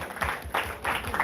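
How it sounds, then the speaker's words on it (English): Brief bursts of audience applause for a secondary school team at a live radio quiz competition, uneven clapping rising and falling in short waves. "A round of applause for them."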